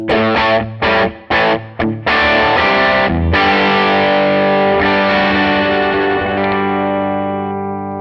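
An electric guitar plays through a British amp modelling capture with a distorted tone: a run of choppy, muted chord stabs, then a big sustained chord left ringing and slowly fading, loud and alone.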